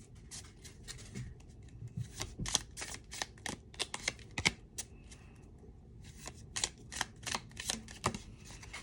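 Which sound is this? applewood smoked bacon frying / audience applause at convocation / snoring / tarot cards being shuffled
tarot cards being shuffled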